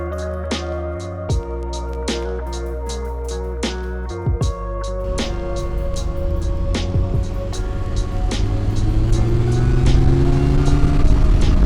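A 2018 rear-wheel-drive car engine revs loud and close, idling then rising in pitch and holding a strong, rising drone, with no talk.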